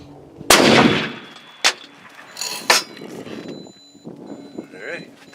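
A Mossberg Patriot rifle in .300 Win Mag fires a single loud, sharp shot from a Ransom Rest during an accuracy test, followed by a decaying blast and a few quieter clanks and mechanical noises.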